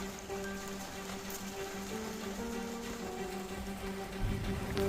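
Steady rain pours down, a dense hiss of drops drumming on surfaces, constant and fairly loud, with no voices.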